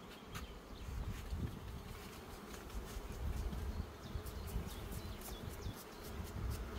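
A swarm of honeybees at an open hive hums in a continuous, dense buzz. Individual bees fly close past the hive in spring at the start of rapeseed bloom.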